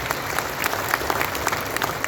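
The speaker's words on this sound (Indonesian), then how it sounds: "Tepuk tangan buat Rudi." A large crowd at a volunteer and health worker appreciation concert at Sentul International Convention Center applauds, a busy continuous clatter of many hands with sharper individual claps poking through.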